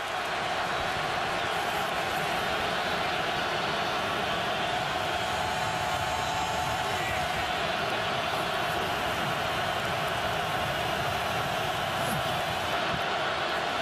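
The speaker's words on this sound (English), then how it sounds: "Wait till you hear this eruption from this crowd." A large stadium crowd at a 2011 Chargers at Chiefs NFL football game keeps up a dense, steady roar throughout, a broad wash of cheering and noise with no clear breaks.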